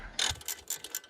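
A ratchet tightening the strut pinch bolt in the hub carrier of a BMW E87 1 Series, five or six quick, close, crisp clicks in a steady rhythm, alone.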